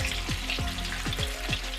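Shrimp for crispy coconut shrimp sizzling in hot oil, a steady close crackle with a faint low rhythmic hum underneath, brief and without speech.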